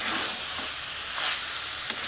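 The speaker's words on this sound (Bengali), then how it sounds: "টমেটোটা দিয়ে আমি এখন বেশ কষবো।" Mutton and tomato sizzle loudly in a pan while being sautéed for a Bengali-style mutton curry, a steady, dense hiss of frying that runs throughout with slight stirring swells.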